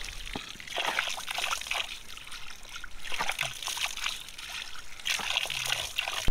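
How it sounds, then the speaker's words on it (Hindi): Water splashes and trickles as someone washes their face outdoors on a mountain trek campsite, with soft intermittent splashing over a steady background hiss. "तो अभी हम यहाँ पे मुँह धोएंगे"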